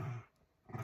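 Dog growling in two low, rumbling bursts close to the listener, separated by a short quiet gap, sulking rather than aggressive.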